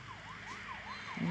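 A police car siren from a video game wails in steady rising and falling sweeps, loud and continuous, with a few faint voice-like sounds mixed in near the end.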